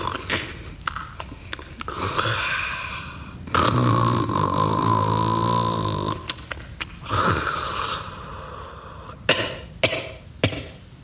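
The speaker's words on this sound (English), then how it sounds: "Is it snoring and coughing?" A dragon in a dark, smoky cave lets out deep, rumbling snores that give way to rough coughs and snorts, with a long drawn-out snore in the middle of a run of repeated bursts.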